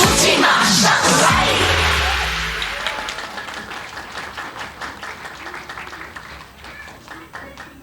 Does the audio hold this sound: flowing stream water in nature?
no